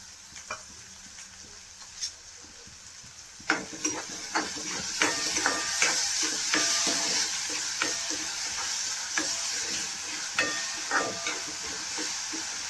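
Finely chopped onion and grated ginger hit hot oil in a pan while making momo filling. A quiet start gives way to a steady bright sizzle, with frequent stirring scrapes and taps close by and no talking.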